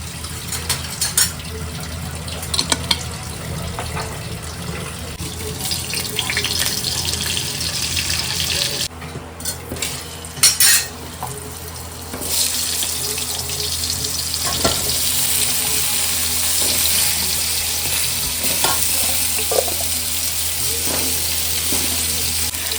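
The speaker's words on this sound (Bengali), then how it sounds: "ফার্স্টে আমি অল্প বাটার আর তেল দিয়ে আলুটা অল্প ভেজে নিই।" Potatoes fry in butter and oil in a pan, a steady loud sizzle under repeated scraping stirs and occasional utensil clanks, with a brief burst of running water partway through.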